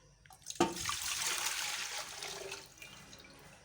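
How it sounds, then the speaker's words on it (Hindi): About a litre of water is poured into a pressure cooker, a short soft gush that starts abruptly, flows steadily for about two seconds and then trails off, heard alone and fairly quiet. "प्रेशर में मैं ये 1 लीटर पानी डालूँगी"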